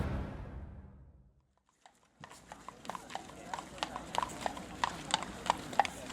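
Horse hooves clip-clop in a steady, fairly loud rhythm, as from a horse-drawn carriage, starting after a short quiet stretch.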